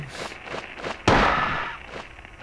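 Sharp gunshot crack at a monster in the horror video game Silent Hill, one loud report with a decaying tail amid fainter rhythmic thuds.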